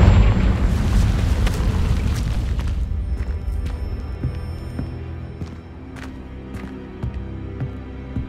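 A Confringo fire spell explodes in Hogwarts Legacy with a loud deep boom, then a long low rumble that slowly fades, with a few small crackles and pops trailing behind it.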